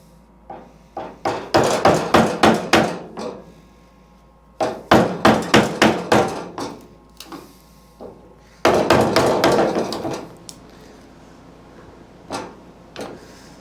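A hammer striking a screwdriver to chip out wood for a new wooden bed on a 1980 Dodge Stepside pickup truck, close, loud sharp taps in three quick rhythmic runs separated by pauses.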